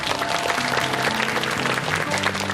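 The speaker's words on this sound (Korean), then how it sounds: "박수 한번 해 주셔야 되는 거 같아요" Studio audience of a Korean TV health talk show applauds, steady dense clapping at moderate loudness throughout, with music or tonal sound mixed underneath.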